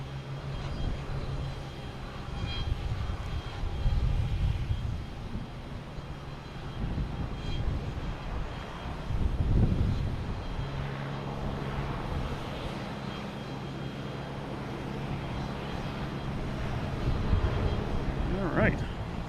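Airliners at Boston Logan Airport, a distant low engine rumble and roar that swells and fades across the scene, with people talking intermittently over it.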